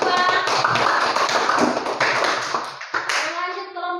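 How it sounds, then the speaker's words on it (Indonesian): Classmates applaud a student discussion group in a school classroom: a dense burst of close hand clapping that thins out toward the end, with a few voices mixed in. "tepuk tangan untuk kelompok 2"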